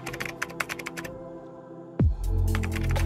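Typing a command on a keyboard to install a wireless security tool on a phone terminal, a quick patter of close keystrokes followed by a louder low hum after a brief pause.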